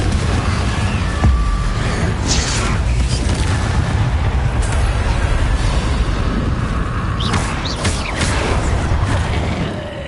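Fire spell detonations in the Hogwarts Legacy video game: loud, continuous booming blasts and rumbling bursts filling the whole stretch, with game effects layered on top.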